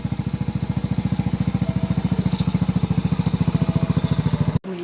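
Boyong's motorcycle engine idling while warming up before setting off, a steady rapid chugging putter close by, cutting off abruptly near the end.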